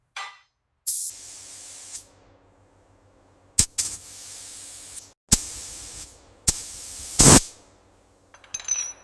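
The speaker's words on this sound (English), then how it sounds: "Technician begins spraying from the upper sections downward, moving in smooth overlapping passes." A paint spray gun lays a light mist coat on a van, heard as several short, loud hissing bursts separated by quiet gaps and faint background hum.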